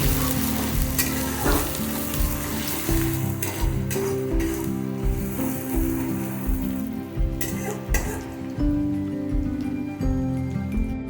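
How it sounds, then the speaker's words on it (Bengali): Chopped onion sizzles steadily in hot oil in a pan, with a dense continuous crackle broken by repeated stirring scrapes and a low steady hum underneath, close and fairly loud with no talking. "একটা পেঁয়াজ কুচানো দেব সুন্দর করে ভেজে নেব পেঁয়াজটাকে"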